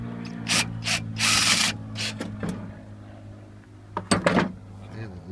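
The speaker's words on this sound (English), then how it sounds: "I can do it with a 5/8 deep well socket." A 5/8 deep well socket unscrews the nozzle deep inside a Myers QD50s jet pump, making close scraping, rubbing and metallic ratcheting bursts over a steady low hum, with a voice speaking between them.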